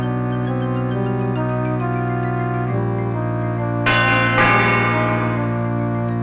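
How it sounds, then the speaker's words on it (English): A melodic sequence of bright chime tones from a doorbell in JumpStart Adventures 3rd Grade: Mystery Mountain rings out over a steady sustained hum, followed by a louder, denser burst of ringing notes near the end. "Ring the doorbell to start the chimes."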